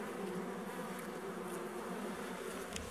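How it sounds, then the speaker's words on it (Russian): A dense swarm of wasps buzzes around their nest in a village setting, a continuous close droning hum with no pauses. "Вот, смотрите, здесь сколько ос."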